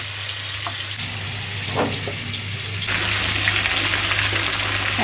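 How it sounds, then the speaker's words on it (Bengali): Boiled chicken drying out and frying in a pan with a continuous hissing sizzle that grows louder and denser in the second half, along with faint scraping from stirring. "এই পানিটা দিয়ে আগে সিদ্ধটা হয়ে যায় চিকেনটা ভালোভাবে, তারপরে এই যে গ্রিলের মতন শুকাই নেই।"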